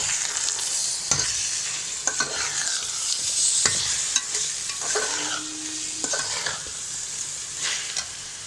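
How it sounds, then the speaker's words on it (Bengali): Continuous sizzle of soaked, drained polao rice frying in a pan, with repeated scraping and stirring strokes against the pan, about one per second. "এখন চালটাকে ভেজে নেব।"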